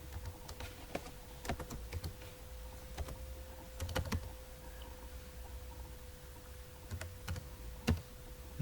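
Keystrokes on a computer keyboard while C++ code is written in the Dev C++ editor, scattered clicks and short bursts of taps with pauses, fairly quiet over a steady low hum, no talking.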